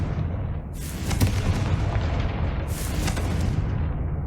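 Confringo blast spell explosion in Hogwarts Legacy, two heavy booming bursts over a steady rumbling roar, loud and full, with no speech.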